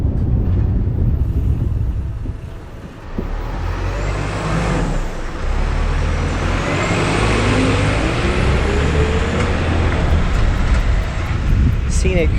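Road traffic rushes past on a route toward Trento, a continuous loud roar of passing vehicles with a brief lull, whining tyre and engine tones sweeping by, and a hiss like an air brake.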